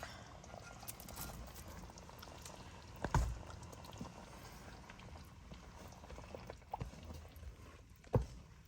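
Jerk lobster penne alla vodka sauce cooking in a pan, a steady low bubbling and sizzling hiss with a few louder knocks or clinks, moderately close, with no talking.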